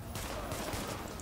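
Gunfire in the video game Tom Clancy's The Division, a dense, steady rattle of shots running through the whole moment at low level, with no talk over it.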